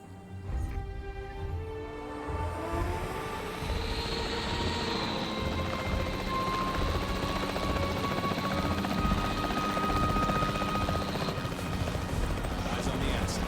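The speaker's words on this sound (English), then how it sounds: "The priority needs to be tranquilizing it with the capture team chopper." Capture team helicopter in Jurassic World Evolution 3, a steady loud rotor drone that swells in the first seconds and holds throughout, with a rising whine near the start and faint voices beneath.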